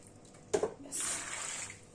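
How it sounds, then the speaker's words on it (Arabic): Water poured into a cup in a home kitchen while making pickles: a short knock of the cup, then a soft, steady pour lasting about a second, quiet and close, with no talk. "نحط بس كوبايه ميه كده اهي"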